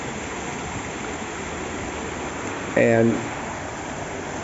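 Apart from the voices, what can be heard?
storm runoff water rushing downhill in Athens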